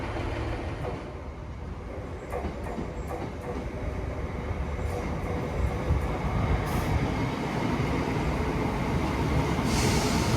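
A train in Train Sim World passes close by with a steady, loud rolling rumble of wheels and carriages for the whole stretch, with no talk over it.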